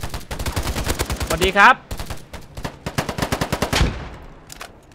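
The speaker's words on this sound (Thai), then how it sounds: "โอ้เสียงปืนมันช่างดูเดือดเหลือเกินเพื่อน" Rapid bursts of automatic gunfire in a free first-person shooter, loud sharp reports in quick rhythmic runs with a brief pause between volleys, while someone speaks briefly over the shooting.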